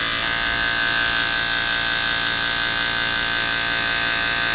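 An engine motor on a Harley-Davidson ignition spark test rig spins at high RPM, producing a loud, steady buzzing whine with a sharp, constant tone throughout.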